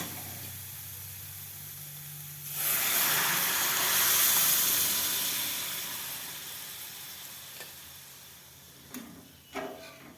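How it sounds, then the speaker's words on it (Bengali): A sudden loud hiss and sizzle as milk hits the hot pan with fried carrots for carrot halwa, slowly dying down, followed by a couple of soft utensil clinks. "আমি দুধ দিয়ে ফুটাচ্ছি গাজরটা"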